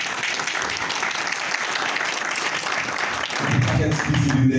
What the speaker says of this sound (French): Nous avons un gros applaudissement pour Etera.